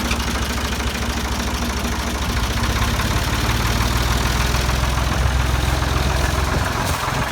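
A Ford 2000 tractor engine with a weak battery idles steadily nearby, its low, even chugging rumble continuous and alone.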